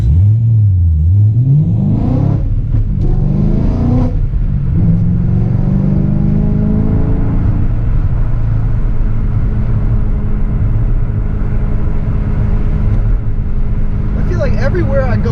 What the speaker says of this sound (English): All the little tones, the little pops and cracks that this engine makes, this exhaust makes, is just ridiculous.